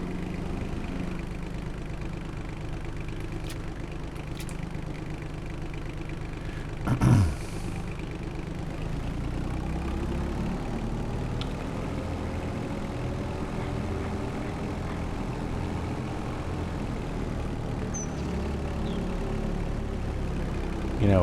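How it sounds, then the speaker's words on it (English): A small skid steer engine runs steadily at idle, a continuous low mechanical drone close by with a brief bump partway through and no voices. "I love playing with this little skid steer."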